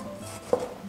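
A knife slices a washed tomato into thick slices on a cutting board, giving two quick, close knocks against the board in a short moment.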